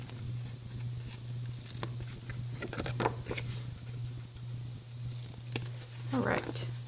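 Scissors snip through file folder paper in quick irregular cuts against a steady low hum, with a person talking quietly throughout.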